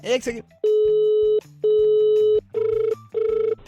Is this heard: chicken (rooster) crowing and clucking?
no